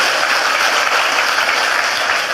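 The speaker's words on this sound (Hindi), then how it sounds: "जोरदार तालियां हो जाए सुरेखा भार्गवों के लिए" Loud, dense applause from a hall full of people at a network-marketing business training meeting, a continuous roar of clapping that stays even from start to finish.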